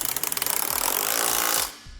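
Power tool snugging trailer hitch bolts on a 2010 Audi Q7 during a Curt receiver install, heard as a loud, close, rapid rattling impact burst lasting under two seconds, then stopping.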